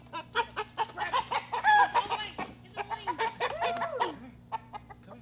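Chickens cluck and squawk in a busy, overlapping flurry, close by, with a brief rising call near the end.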